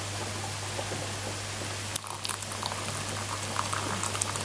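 Freshly boiled kettle water pours steadily over Bovril and beef stock cubes, a continuous hissing, bubbling stream with a faint hum beneath and a brief clink partway through, heard close with no talk.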